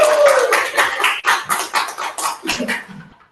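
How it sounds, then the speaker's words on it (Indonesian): A room of students at a university class event applauds a speaker being welcomed, a burst of hand claps that thins into scattered, uneven claps and fades out. "Beri tepuk tangannya untuk Kak Kirana Arya Sandra"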